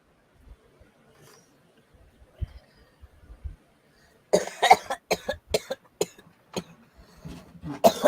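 A few faint throat sounds, then a burst of repeated harsh coughs, close and loud, in quick succession.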